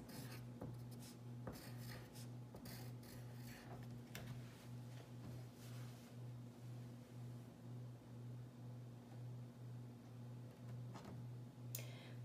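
A pencil writes letters on paper in quick, faint scratching strokes with short pauses between them, close up, over a low steady hum.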